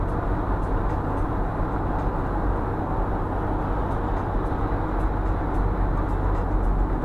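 Steady rumbling ride noise inside an electric commuter train carriage, a continuous low roar with faint rhythmic clicks, no talking.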